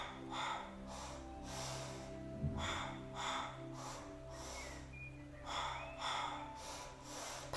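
Forceful rhythmic breathing during a kundalini kriya exercise: about seven strong, evenly paced breaths, each a sharp rushing burst through the nose, close and fairly quiet over a low steady background hum.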